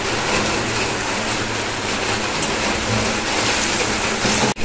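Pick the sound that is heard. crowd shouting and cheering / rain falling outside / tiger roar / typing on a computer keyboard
rain falling outside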